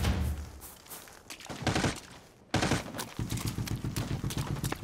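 Gunfire crackles in the tactical shooter America's Army: Proving Grounds, with rapid bursts of automatic shots, a pause, then a steadier stream of repeated shots at mid distance.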